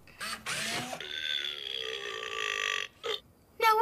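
A Robosapien toy robot lets out a long electronic burp lasting over two seconds, close and clear, followed by short mechanical clicks and whirs of its moving parts.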